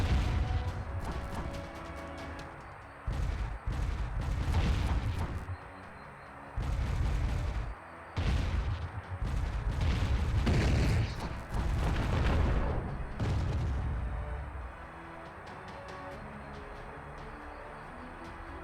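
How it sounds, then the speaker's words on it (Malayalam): Missile launches and blasts in a VR combat video game, a run of loud booming bursts with short gaps between them, fading to a quieter rumble near the end, with no voices. "നമ്മുടെ മിസൈൽ ഷൂട്ട് ചെയ്തിട്ടുണ്ട്."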